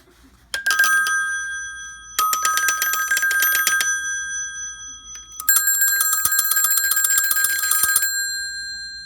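A rotary telephone's bell rings in three loud, rattling bursts separated by short pauses, close and clear.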